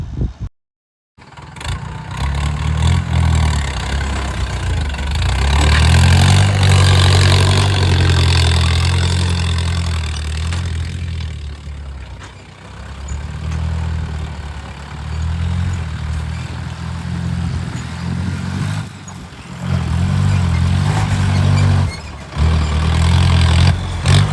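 A loud tractor engine chugs steadily nearby, idling with a low rumble and briefly revving louder a few times.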